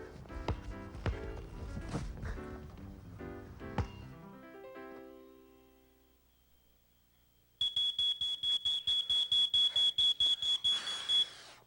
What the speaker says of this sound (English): A smoke alarm can save your life.